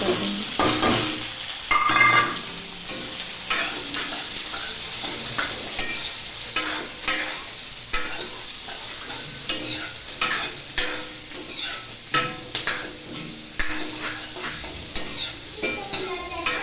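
Onions for paneer bhurji stirring and frying in a pan until browned: a steady close sizzle with repeated scraping strokes of a spoon against the pan, no voices.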